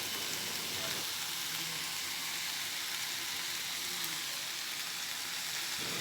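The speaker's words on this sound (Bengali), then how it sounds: "আলু আর কুঁদরি একসাথে ভালো করে ভাজতে হবে" Potatoes and ivy gourd frying together in a pan make a loud, dense, continuous sizzle close up, with a crackling hiss that holds steady throughout.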